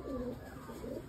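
A sick pigeon suffering from a worm infestation gives a low, close coo that lasts about a second, with no other sounds around it.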